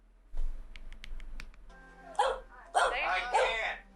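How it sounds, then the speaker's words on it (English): A dog barks a few times in a TV show's crime scene, short sharp yips early on, followed by louder overlapping speech from several people. "Is that dog's name Tubby?"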